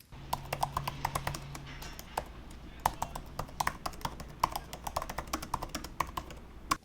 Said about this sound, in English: in terms of the keyboard, it's still clicky and it's still very nice to type on